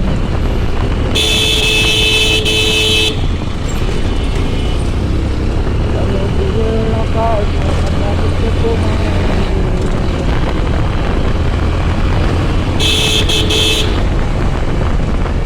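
Heavy traffic jam on a Dhaka road heard from a motorbike, with steady engine and road rumble throughout and two loud, sustained bursts of car horns honking, one early and one near the end.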